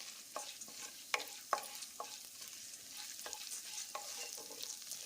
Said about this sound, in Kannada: 1 ಟೇಬಲ್ ಸ್ಪೂನಷ್ಟು ಕಡಲೆಬೇಳೆ, ಹಾಗೆ ಉದ್ದಿನಕಾಳು, ಹಾಗೆ ಜೀರಿಗೆ ಎಲ್ಲವನ್ನು ಹಾಕಿ ಎಣ್ಣೆಯಲ್ಲೇ ಇವನ್ನು ಹುರ್ಕೋಬೇಕು